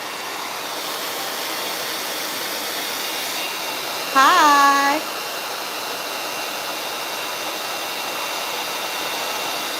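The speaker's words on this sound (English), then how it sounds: "can y'all hear me over this blow dryer?" A blow dryer roars steadily through a hair blowout, a constant close hiss that fills the whole stretch while someone briefly speaks over it.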